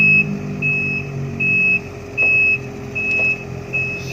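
Sumitomo SH350 excavator loaded onto a transport truck at the Poso Energi hydro site, with a loud reversing beep pulsing in six evenly spaced bursts over a low steady engine hum.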